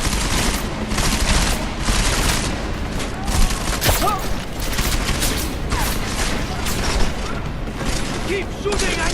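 Dense, continuous gunfire fills a Deus Ex: Mankind Divided combat scene, rapid overlapping shots and impacts at steady loudness, with shouted voices now and then mixed into the din.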